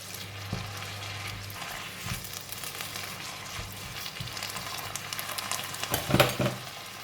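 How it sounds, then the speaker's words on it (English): Bean sprouts stir-frying with salted fish and spring onions in a hot pan, a steady close sizzle broken by a few scraping stirs and a louder clatter of tossing near the end. "And I'm going to put in the spring onions. Just a couple of stir, then we're done."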